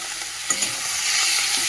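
Onion and garlic fry in hot oil with a bright, continuous sizzle, close and fairly loud, with a couple of soft stirring knocks partway through.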